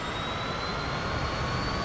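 Jet engines roar at takeoff power in a flight simulator game, a loud steady broadband rush with a thin high whine running through it, continuous and close with no voices.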